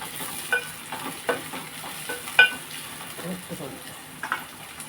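Ingredients stirred into very hot oil in a pan: a steady low sizzle broken by several sharp scrapes and clinks of a spoon against the pan.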